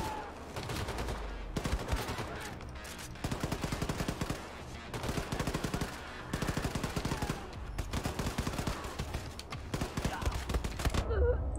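Rapid machine-gun fire in Wolfenstein II, loud and close, coming in long sustained bursts separated by brief gaps across the whole stretch.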